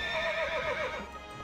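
A horse whinnies in World of Warcraft: Mists of Pandaria, one long, loud, wavering neigh that rises and falls before fading, heard alone.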